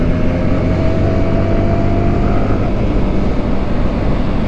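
Several motorbikes ride together on an open road, their engines a steady, loud, broadband roar held close and continuous throughout, with no pauses and no voices.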